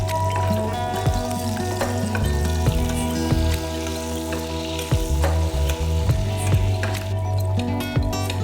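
Chilean sea bass fillet frying in butter in a hot pan, a steady close sizzle with a few soft scraping stirs and spattering pops throughout, no talk.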